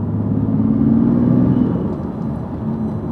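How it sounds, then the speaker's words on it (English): A car with its factory intake running steadily at close range, a low, even rumble and whir with slight swells, no voices present. "See if you can hear the intake."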